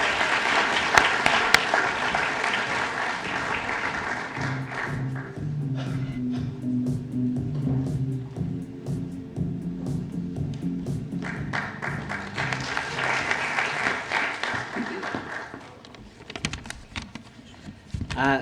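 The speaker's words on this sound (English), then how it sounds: "A massive round of applause for James and Saif," Audience applause at a university student event for two speakers, a long stretch of dense crowd clapping that rises and falls, with some quieter rustling in the middle.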